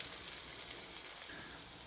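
Zucchini pancakes frying in a pan make a faint, even hiss of sizzling oil, steady and close, with tiny crackles and no talking.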